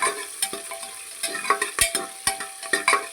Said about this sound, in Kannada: ಚೆನ್ನಾಗಿ ಇದನ್ನ ಫ್ರೈ ಮಾಡಬೇಕು.